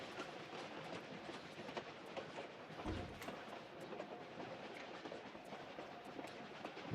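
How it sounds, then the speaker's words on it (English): A moving train in the video game Tomb Raider IV Remastered, with a steady rumbling roll and clattering rail noise, faint in level, with a brief low thump partway through and no talking. "This is the front of the train or the back of it."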